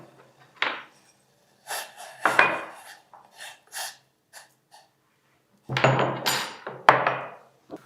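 Black peppercorns being coarsely crushed by hand, a series of irregular gritty pounding and grinding bursts with short gaps between them, close by and without speech.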